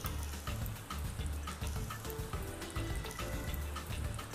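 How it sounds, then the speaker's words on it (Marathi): Water pours steadily into a pan for tawa pulao, two cups of it heating as the base for the rice. A continuous broadband splashing rush holds an even level throughout, with no voices. "1 कप मी मगाशी तांदूळ घेतलेले आहेत, तर 2 कप पाणी घालते"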